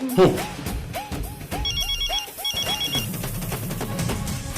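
A telephone call on speakerphone rings repeatedly in short, even bursts, with faint voices and background sound underneath.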